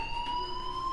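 A fire alarm in the video game Life is Strange rings as a steady, piercing electronic tone, continuous and fairly loud throughout, with no voices over it.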